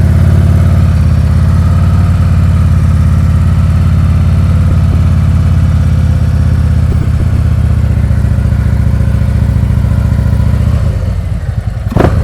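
Motorcycle engine idling steadily in first gear during a slow-speed riding practice session, a loud continuous close rumble with a slight change and roughening near the end.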